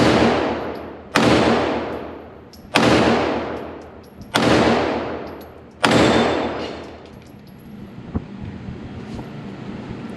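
A CZ P10F 9mm handgun fires four loud, sharp shots at irregular intervals of about one to two seconds outdoors, each crack trailing off in a long echoing decay over wind noise.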